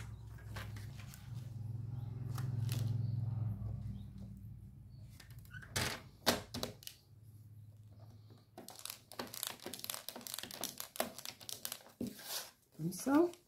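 Paper card stock, a piece about 11 by 15, being folded in four for a simple handmade card: soft crinkling and scraping of paper close by, with brief creasing snaps and some speech mixed in.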